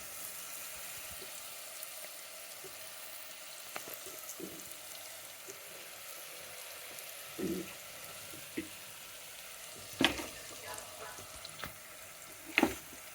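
Oil sizzles and fries softly in a pan while cooking bagara rice, a faint continuous crackle with occasional louder clinks and stirring knocks near the end.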